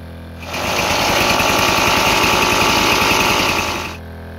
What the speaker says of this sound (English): I've been thinking back and forth how I can decrease the enormous noise emitted by this generator